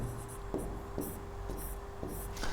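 Writing on a board during a physics lesson gives short, repeated scratchy strokes at a steady pace over a constant background hum, with no talking.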